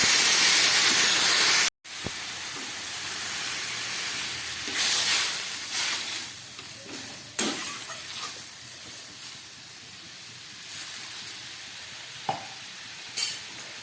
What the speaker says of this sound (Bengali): এবার আমি এর মধ্যে দিয়ে দিচ্ছি পরিমাণ মতো জল।